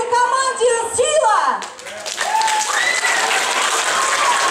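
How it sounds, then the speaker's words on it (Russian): An audience applauds team Sila at a children's quiz event, clapping rising beneath excited shouting and whistle-like cheering voices, a lively mixed crowd noise that grows denser after a brief dip. "Ваши аплодисменты команде «Сила»."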